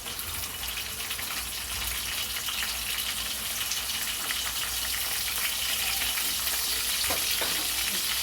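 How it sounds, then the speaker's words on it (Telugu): Dried prawns frying in hot oil with curry leaves and cumin, a loud, dense and continuous sizzle with a faint stirring clatter near the end, heard up close with no voices. "కరివేపాకు జీలకర్ర వేసుకున్నాం కదండి. ఎండ్రోలు వేసుకుందాం."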